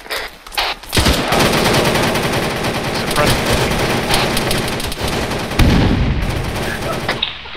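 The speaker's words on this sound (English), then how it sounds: "Charlie, you will be suppressing fully automatic." Sustained fully automatic suppressing fire in ARMA 3, loud and close, with dense overlapping bursts rattling almost without pause for about seven seconds after a brief quieter opening.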